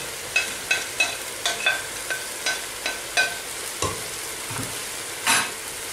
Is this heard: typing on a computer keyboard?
no